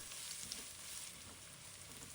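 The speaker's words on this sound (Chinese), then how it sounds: "接着把姜蒜末下锅，" Minced ginger and garlic fry gently over low heat in a wok, giving a faint, even sizzle that holds steady throughout with no speech.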